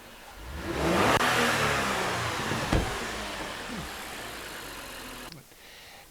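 A car engine revs up to a loud, whining roar, then slowly winds down, ending in a quieter idle.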